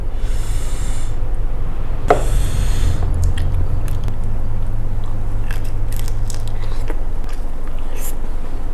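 Someone eating a spicy Thai salad of strawberries and raw shrimp dressed with old-style fish sauce: wet, squishy chewing and a crunchy bite, close up over a steady low hum.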